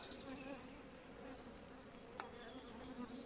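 Bees buzz around a dead beehive, robbing its stored reserves. The buzzing is a steady, continuous drone that sounds fairly faint and close, with no talking.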